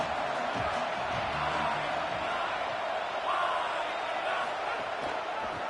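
The stadium crowd at an LSU vs Arkansas college football game keeps up a constant, dense roar throughout, with a commentator's voice faintly underneath.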